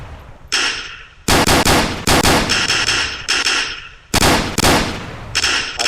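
Sniper gunshots from the mobile game Killer Shooting Sniper X ring out as loud, sharp cracks, five or six of them in quick succession with brief ringing tails, and no talk.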